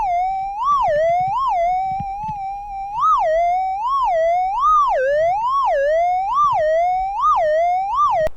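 A metal detector sounding over a buried target in gold country produces a loud, steady tone that warbles up and down in repeated sweeps, clear and continuous with faint handling noise beneath.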